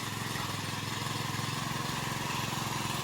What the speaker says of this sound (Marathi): पप्पाने ट्रॅक्टर धरलाय